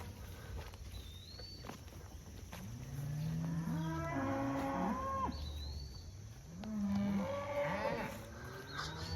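Several cattle moo on a farm pasture, long low calls rising and falling, some close and loud, others overlapping farther off, with birds chirping faintly in the background.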